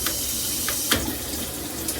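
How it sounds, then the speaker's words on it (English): A dual shower head sprays water in a steady, full hiss that runs unbroken, with a few faint splashes and knocks on top. "Okay, I bought this shower head. Great shower head, great pressure."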